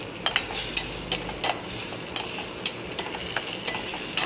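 Steamed peas, beans, carrots and potatoes go into a hot pan for pav bhaji, with a steady sizzle beneath sharp, irregular clinks and scrapes of a utensil stirring, close and moderately loud.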